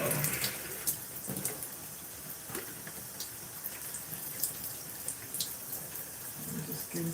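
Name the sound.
tap water running, filling a bottle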